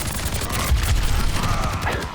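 Soldier's rifle in Overwatch 2 fires in a continuous, loud burst of rapid automatic shots, close and dense throughout, with no talking.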